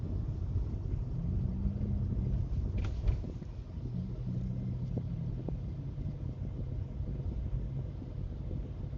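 A car engine drones low inside the cabin while driving, its steady rumble mixed with road and wind noise, with a slight shift in tone partway through as the gear changes to third.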